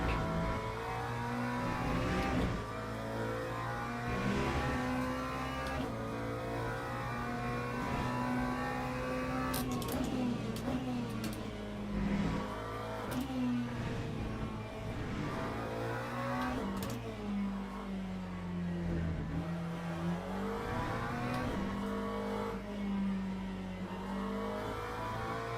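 A McLaren race car engine in Le Mans Ultimate drones and revs steadily, its pitch rising and falling through gear changes over a long continuous stretch, with no talk.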